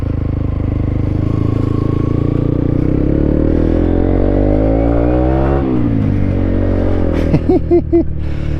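A Honda CB125 motorcycle engine ticks over at a gentle idle, a steady low drone that swells briefly as if blipped, then settles, with a few light clunks near the end.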